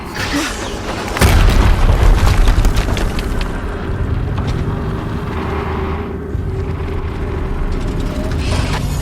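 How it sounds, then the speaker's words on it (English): A loud explosion in the action game Horizon Zero Dawn, a sudden heavy boom followed by a long rumbling roar and crackling debris that persists for several seconds. "Another explosion."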